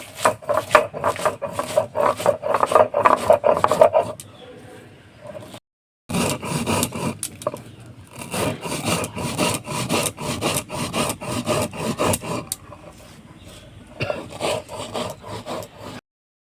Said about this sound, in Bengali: ভেজে রাখা মশলাটা একটু গুঁড়ো করে নেব